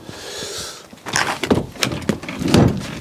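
The door of a salvaged 2017 Fiat 500 Sport is opened carefully, giving a series of clunks, creaks and knocks with rustling as it swings partway open.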